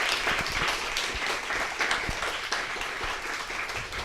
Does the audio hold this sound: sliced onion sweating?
no